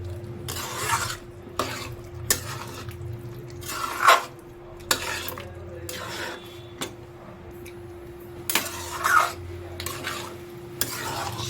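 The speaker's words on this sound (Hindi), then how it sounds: "अब इसे हम मसालों के साथ मिलाएंगे।" Chickpeas being stirred with spices in a pan for chole, a spoon scraping and clinking against the metal in repeated strokes over a soft steady sizzle, close and without speech.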